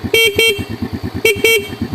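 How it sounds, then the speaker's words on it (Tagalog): A Motorstar Nicess 110R motorcycle horn beeps four times in two quick double toots, loud and close, with an idling engine underneath. "At pakinggan po natin yung busina nya."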